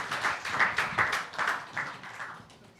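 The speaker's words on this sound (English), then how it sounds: "So big round of applause for Madhi." A small audience at a customer data platform summit claps for a speaker in a few uneven bursts, quiet and thin, fading toward the end.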